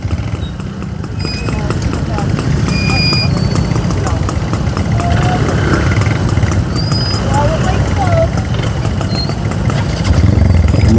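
Motorcycles pass along a storm-damaged road toward Balayan after Typhoon Kristine. A steady engine rumble and drone runs throughout while a person talks over it.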